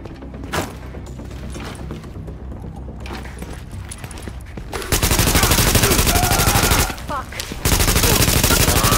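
Automatic weapons fire in The Division video game erupts in loud, sustained bursts near the Queens Tunnel camp, following quieter scattered shots and game ambience, pausing briefly before resuming.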